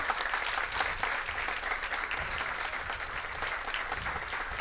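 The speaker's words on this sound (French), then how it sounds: "Encore une fois, je vous demande de les applaudir." Steady applause from an audience cheering a winning lycée team at a school quiz competition, continuous and fairly even over nearly five seconds, heard from a distance.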